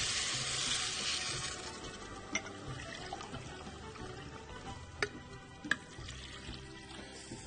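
Rice with salt and meat broth set on the stove in a pot, giving a continuous low sizzle and bubbling with a few sharp clinks, with no talking.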